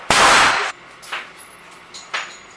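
A single loud sharp shot fires an unlubricated cast wadcutter bullet, followed by two fainter metallic clinks a second apart.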